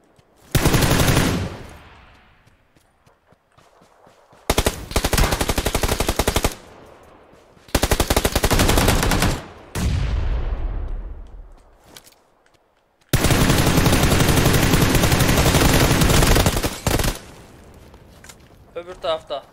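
Automatic gunfire in PUBG Lite, loud bursts of machine-gun fire in several long volleys separated by short pauses, with players talking over the action.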